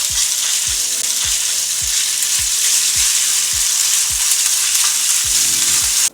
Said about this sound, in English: when the pan starts to smoke, I'm gonna add 2 tablespoons of oil. Then throw in the shrimp, pork, and mushrooms.